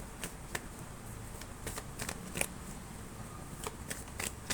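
Tarot cards are handled and shuffled quietly, giving a scattering of soft, sharp flicks and taps over low background hiss, with no voices.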